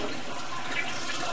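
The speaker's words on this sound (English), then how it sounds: "Try flushing that toilet again." A toilet flushes in a bathroom under remodel, picked up through the shower drain pipe by an inspection camera: a faint, steady rush of water that runs evenly throughout with no talking.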